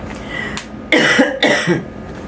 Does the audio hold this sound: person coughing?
yes